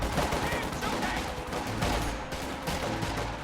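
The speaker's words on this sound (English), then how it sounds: "Volley fire going out on the Volksgrenadiers in the deep snow." Riflemen volley fire at Volksgrenadiers in deep snow in a WWII strategy video game: a dense, continuous crackle of overlapping rifle shots and distant battle noise, moderately loud with no pauses.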